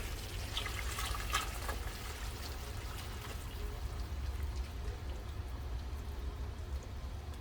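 A continuous stream of hot water pours steadily into a pot of catfish curry with tomatoes and tomato paste, close by and unbroken for several seconds.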